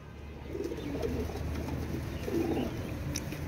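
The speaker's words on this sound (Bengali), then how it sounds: "চিলা কবুতর দেখেন," Chila pigeons cooing nearby in a pigeon market, two low rolling coo phrases over quiet background rustle, no speech.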